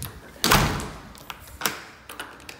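A door opens and closes inside a house in Houston, Texas, while touring a home near the garage: a loud thump followed by a few lighter clicks and taps, close by with no talking.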